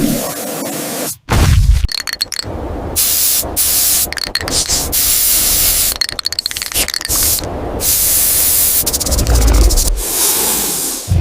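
A pressurized spray hisses loudly in repeated long bursts, broken by brief pauses and clattering handling noises, up close with no talk.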